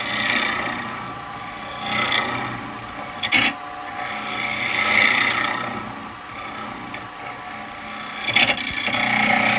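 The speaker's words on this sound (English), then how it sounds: "Go to my spindle gouge for a minute." Spindle gouge cutting wood on a spinning lathe, a steady close rasping scrape that swells and fades in long strokes, with a couple of brief sharper knocks.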